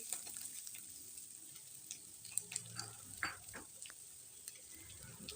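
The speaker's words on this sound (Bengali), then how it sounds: "পেঁয়াজটা দিয়ে বেশ খানিক সময় ভেজে নিয়েছি।" Chopped carrot, beans and onion sizzle softly in a pan for pasta, a quiet steady crackle with scattered light clicks and scrapes of stirring.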